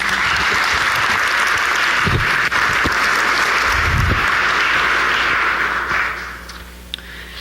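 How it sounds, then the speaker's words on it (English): A seated audience at a talk on hope and global poverty claps together in a dense, loud, sustained wash of applause that holds steady for about six seconds before tapering off. "Let's give them a round of applause."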